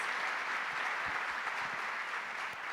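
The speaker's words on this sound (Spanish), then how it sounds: "La recibimos entonces con un fuerte aplauso" A crowd claps steadily in a dense, continuous wash of applause, moderately loud and unbroken throughout.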